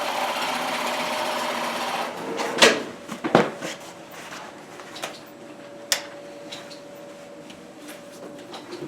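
A sewing machine zigzag-stitches around a hole in skydiving fabric, with a steady whir and scattered clicks and knocks from handling the material, fairly close and moderately loud with no talk.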